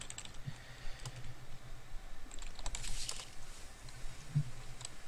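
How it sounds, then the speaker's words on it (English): Fingers typing on a computer keyboard, a steady patter of quick clicks with short pauses, fairly close and alone over faint room hum. "You typing something to me?"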